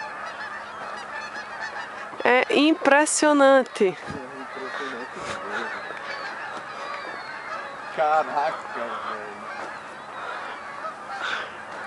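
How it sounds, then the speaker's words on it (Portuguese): Loud honking duck calls burst out in a short flurry near a river bridge, then again more briefly later, while people talk over a busy outdoor background. "Olha quantos patos."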